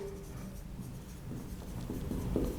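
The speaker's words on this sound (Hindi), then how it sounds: "परसेंटेज थोड़ा नीचे लिखता हूं" Pen or marker writing by hand on a board or paper during a chemistry lesson on percentage composition, a faint continuous scratching with soft strokes and no voices.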